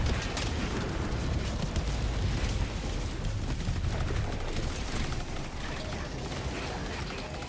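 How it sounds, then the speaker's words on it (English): A grenade blast in a superhero action video game, a rumbling, roaring explosion that stays loud and dense throughout, with crackling debris-like noise layered over a heavy low boom. "Throw the grenade in the center of the thingy,"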